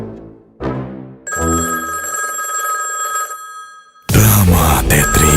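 Telephone ringing for an incoming call, a bright electronic ring that sounds twice and holds steady before cutting to loud music.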